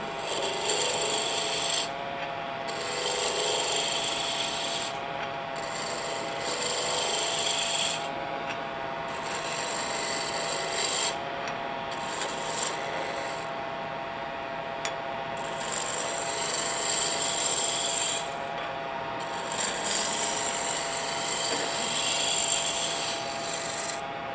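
A wood lathe tool shears a spinning cylindrical blank being turned into a wig stand, giving a continuous loud rasping scrape that swells and briefly pauses in repeated passes, close up and with no talking.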